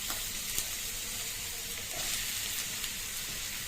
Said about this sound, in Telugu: నేను ట్రై చేస్తున్నాను చికెన్ ఫ్రై.